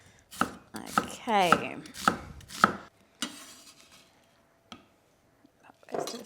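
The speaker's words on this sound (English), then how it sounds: "So we can chop up our onions into slices." A knife chops onions into slices on a board, a handful of sharp, evenly spaced cuts close up, followed by softer scraping and quiet handling, with a brief spoken word.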